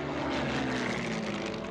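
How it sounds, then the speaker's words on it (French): A propeller-driven A-1 attack aircraft makes a low pass during a battle, a steady droning engine roar that stays loud and constant throughout. "L'avion entame son premier survol, sans faire feu."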